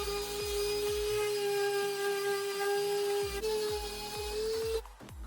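A sander works over rusted truck body metal with 120-grit paper, a steady high whine with repeated scraping strokes in a rhythmic back-and-forth, close and fairly loud, cutting off near the end.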